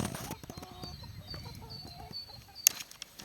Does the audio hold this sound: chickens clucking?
yes